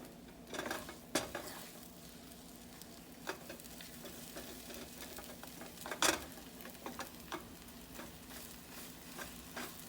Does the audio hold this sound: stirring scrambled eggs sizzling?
yes